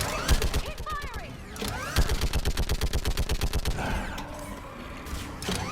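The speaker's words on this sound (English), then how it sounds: "heavy machine gun fire rips it apart" Heavy machine gun fire in the Mass Effect game, with a rapid, evenly spaced burst of loud shots through the middle, layered over battle effects, scattered impacts and shouted commands.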